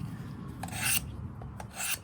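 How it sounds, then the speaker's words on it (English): A knife blade drawn across a Work Sharp guided field sharpener, two rasping strokes with a short pause between them, close and clear with no talking. "I'm going to hit it a few times with my guided field sharpener from Work Sharp."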